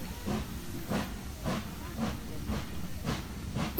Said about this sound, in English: the escaping steam is what makes the train go chug,